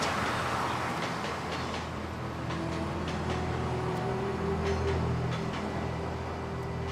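A train rumbles steadily past a garden bordered by a road, giving a continuous low roar with faint clicking wheel noise that swells slightly mid-pass.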